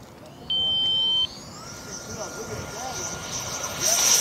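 A twin 40mm EDF E-flite F-14 Tomcat RC jet spools up on its takeoff run, its rising ducted-fan whine climbing steadily in pitch and growing louder over outdoor background noise, with a steady electronic tone early on.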